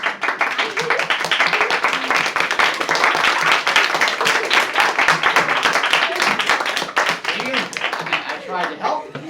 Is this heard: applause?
yes